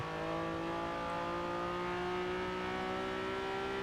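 An Acura NSX in Forza Horizon 4 drifts with a loud, sustained high-revving engine whine, steady tonal harmonics slowly rising in pitch, alone and continuous.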